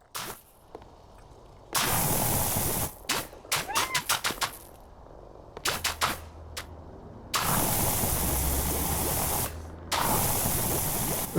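Pressure washer spraying in the PowerWash Simulator 2 video game, coming as loud, steady hissing bursts of several seconds each, broken up by short choppy spurts and brief quiet gaps.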